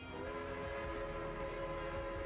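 Steady rumbling train running in the MegaCity 19 game, a continuous drone with tonal whistle-like hum and periodic faint clacks, no talk.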